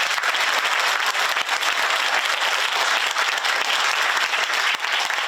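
An audience at a history talk concert applauds loudly and steadily, a thick wash of many clapping hands at close range with no pause.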